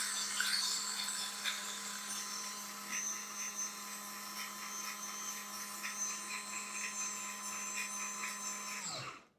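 A Viesimple electric burr coffee grinder grinds espresso beans with a steady, high-pitched motor whine and gritty crunching, running continuously before the motor abruptly winds down and stops at the end.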